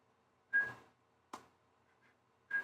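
Someone whistling a song: three short, fairly faint whistled bursts separated by brief silences, with no other sound between them.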